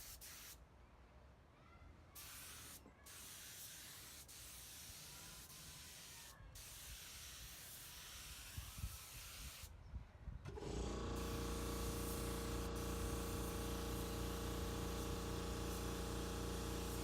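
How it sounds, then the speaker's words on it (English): Spray gun laying a second coat of clear coat onto a Subaru bumper during deep-scratch repair: a steady close hiss of atomized spray that jumps louder and denser partway through and holds continuously to the end, with no talking. "here we go with the second coat of clear."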